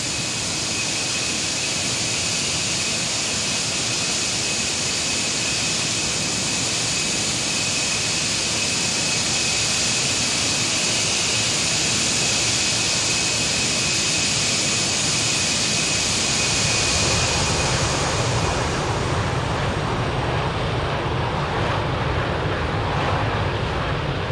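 Boeing 747-200 jet engines on a flyby in the X-Plane 12 flight simulator: a loud, steady broadband roar with a thin high whine, easing into a lower rumble near the end. No talking.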